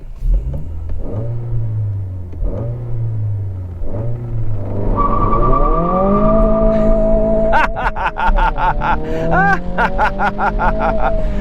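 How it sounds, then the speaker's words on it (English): 2022 Honda Civic Si turbocharged manual launching from a standstill in first gear with stability control off: engine idles and blips, then revs climb loudly with front tire squeal and a rough, rumbling surge as the car pulls away. "Oh man, good pull from this engine."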